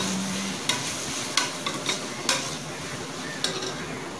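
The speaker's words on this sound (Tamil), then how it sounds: "அந்த மிக்சியில் அரைச்சி வச்ச அந்த பேஸ்ட் எல்லாத்தையும் போட்டு நல்லா சுருளை வதக்கிக்கணும்" Ground masala paste for mutton biryani frying in a pan and being stirred, with a steady sizzle and a few scraping spoon strokes against the pot, close and alone with no talking.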